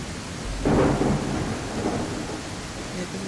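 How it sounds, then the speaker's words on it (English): Rain and a thunderstorm in the survival building video game Tribe Primitive Builder: a rumbling thunder roll swells early and fades over continuous rain hiss, fairly loud, with no talk. "It's very rainy out this way."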